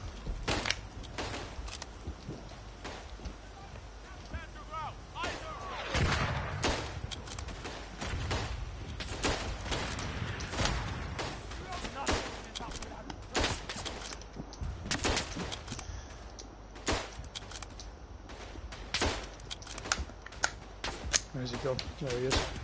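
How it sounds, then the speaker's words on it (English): Bursts of artillery fire from the game Verdun crackle and thud repeatedly through a busy battlefield mix, with players talking over the steady barrage. "What's that scatter artillery?"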